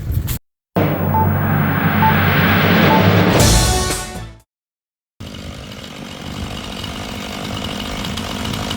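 Chainsaw cutting through a tree while clearing dead wood and branches, loud and close, running steadily with a few abrupt cutoffs and one rising rev before the engine drops back to a rougher, lower drone.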